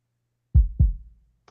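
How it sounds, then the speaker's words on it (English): Two deep, booming kick drum hits in quick succession, each decaying smoothly so the pair pulses like a heartbeat, alone and close. "This is the kick that's got a fade that kind of doesn't kind of come in until a little bit later."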